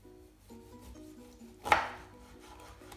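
One crisp knife stroke slicing through an orange onto a cutting board, with a faint rubbing sound before it and quiet background otherwise.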